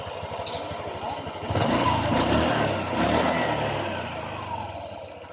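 A Honda Click 125 scooter engine idling and revving close by, a steady mid-pitched putter that swells with throttle blips, with someone talking over it.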